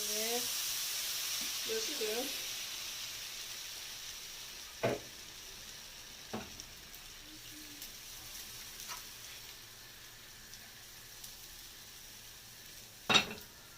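Food sizzles in oil in a pan, a steady soft frying hiss throughout, with a few sharp utensil clinks and scrapes; someone speaks briefly at the start.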